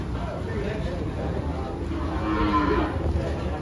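Carabao, a water buffalo, lowing at a busy livestock auction in Lucena, a low drawn-out moo rising briefly amid steady crowd chatter and voices bargaining over prices.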